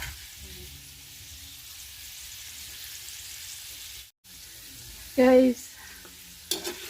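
Pork skin chicharon frying in plenty of rendered oil, a steady low sizzle running throughout with a brief louder burst of spatter near the end; a voice speaks briefly.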